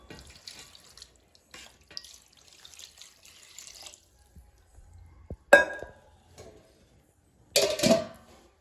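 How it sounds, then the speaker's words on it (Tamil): Water is poured into a pot of uppu kari kuzhambu, a village salted meat curry, in two short splashing bursts, with faint clinks and quiet kitchen handling between them. "அது கொஞ்சம் தண்ணி ஊற்றிடுவோம்"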